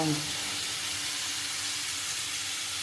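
Chilies and grated coconut fry in a hot pan, giving a steady, loud hiss of sizzling oil that runs unbroken, with a brief voice at the very start.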